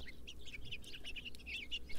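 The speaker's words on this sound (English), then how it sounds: "Their song is rapid, cheery warble," A backyard bird chirps in quick repeated bursts, a rapid bright warble of short high notes, moderately near over quiet outdoor background.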